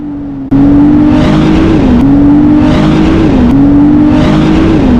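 A fast car overtakes on a Dolomites mountain pass in Italy, its engine rising loud and close in repeated revving surges through the gears, heard from a Ryker trike.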